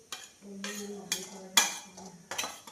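Cashews and almonds roast in a little ghee, with a spoon scraping and clinking against the pan in several separate bursts over a soft background hum.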